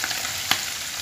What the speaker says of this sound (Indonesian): ini pindangnya saya goreng dulu